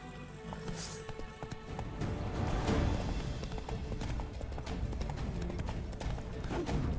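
A horse gallops in the video game The Witcher 3: Blood and Wine, its hooves drumming in a fast, steady clip-clop rhythm that stays loud and close throughout, over a dense bed of game sound.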